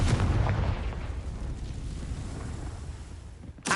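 A Confringo explosion spell cast in Hogwarts Legacy produces a loud, broad, rumbling blast that decays over a few seconds, then a second sharp burst hits right at the end.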